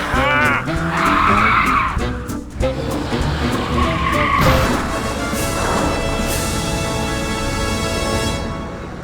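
After its tire is shot out in an animated chase, a car skids with long tire squeals and crashes, loud and sustained, with a little voice at the start.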